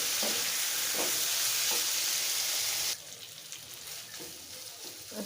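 Beef liver frying in a pan of cooked-down ginger and cumin spice paste, a steady loud broadband sizzle that drops abruptly to a quieter, softer crackle partway through, with no talk.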